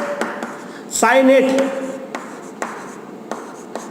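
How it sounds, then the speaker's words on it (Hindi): Writing on a board during a coordination chemistry lecture: quick tapping and scratching strokes spread across the clip, with a short burst of voice partway through. "देखो नाम लिखता हूं मैं, थायोसाइनेट"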